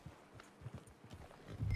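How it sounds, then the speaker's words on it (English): Horse hooves clip-clop in Red Dead Redemption 2, a light irregular patter of steps at moderate distance, ending in a louder rumbling thump. "Yeah, there's a horse there."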